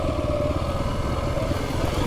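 Kawasaki KLX300 dirt bike engine running on a trail, a steady, moderately loud drone with a rough mid-range rumble and no speech.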